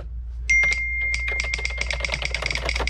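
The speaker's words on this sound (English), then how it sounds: "you can just kind of hit all the keys, listen for the click." A computer keyboard being tested by hitting its keys, producing rapid, irregular clicking keystrokes, close and clear, with a brief beep-like tone near the start and a low hum underneath.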